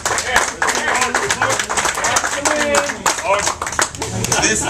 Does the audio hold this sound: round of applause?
yes